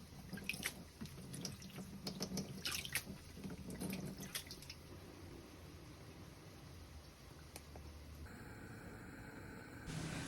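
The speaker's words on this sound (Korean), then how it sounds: "유통기한이 임박한 소고기는 물에 한번 씻어서 사용합니다." Beef rinsed in water at a kitchen sink for Korean seaweed soup, with faint dripping, splashing and trickling water and a few scattered clinks, quiet and close, with no voices.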